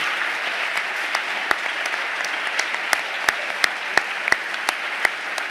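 Audience applause at a crime-fiction festival author event, a steady wash of clapping with sharp individual claps standing out near and loud, continuing evenly throughout.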